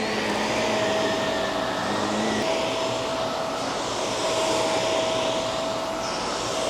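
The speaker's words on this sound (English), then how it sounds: "Now we want to vacuum the top of the rug." A vacuum cleaner runs continuously over the top of a wool rug, a loud, steady whining roar close by with a constant tone and no speech.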